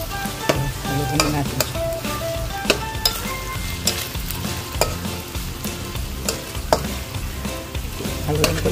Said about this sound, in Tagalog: Haluin ko lang siya guys.